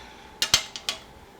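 Bread slices being turned over in a pan of grilled bread, giving four quick clinks and scrapes of a utensil against the cookware, close and fairly soft, with no talking.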